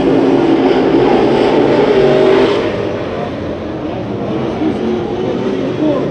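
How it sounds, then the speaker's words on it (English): Race cars roar through a heat race at Santa Maria Raceway, a loud, dense engine drone that stays close and continuous and eases slightly as the pack passes. "This is heat racing action."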